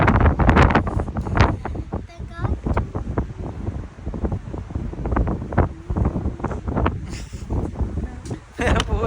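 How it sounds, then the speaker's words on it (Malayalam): Cold wind blows hard across the microphone on the coast at Sur, Oman, giving loud, gusty rumbling bursts that come and go, with someone talking through it. "വെയിലുണ്ടെങ്കിൽ വെയിൽ അറിയുന്നില്ല, ഈ തണുത്ത കാറ്റ്."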